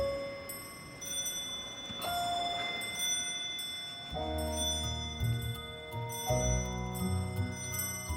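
Several antique clocks chime and strike together in the Painted Hall of Chatsworth House, overlapping bell tones entering in staggered waves over about eight seconds with faint ticking beneath, no voices.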